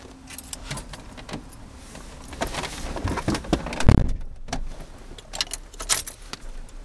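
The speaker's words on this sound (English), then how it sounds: "Let's go ahead and get this thing started up." Keys jangle and clink close by in irregular bursts while a manual car is being started, with faint rustling and a brief thump midway and a low background hum.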